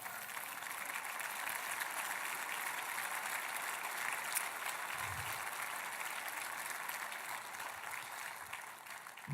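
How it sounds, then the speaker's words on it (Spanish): A church congregation claps in praise to God during a sermon, sustained and fairly even applause lasting several seconds, with a faint low rumble briefly underneath. "¿Por qué no le das un aplauso de gloria a Dios?"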